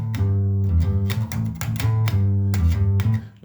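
A bass guitar plays a bouncy repeating blues-rock riff of plucked low notes, close and clear, with no voices.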